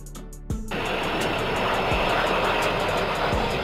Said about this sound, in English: Kawasaki XC2, a heavy military transport aircraft developed by Kawasaki Heavy Industries